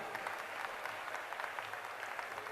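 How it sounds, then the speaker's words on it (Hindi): Audience applause at a mass wedding ceremony, greeting visiting ambassadors; steady, even clapping from a large crowd, moderately distant and fairly quiet, with no distinct voices on top. "दोनों हाथ उठा के ताली तो बजा सकते हो ना इनके लिए।"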